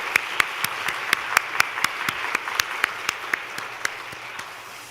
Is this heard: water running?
no